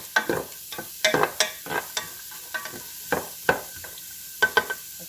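Vegetables, including celery, are sautéed in a pan, with intermittent stirring and scraping strokes over a light sizzle, close and moderately loud.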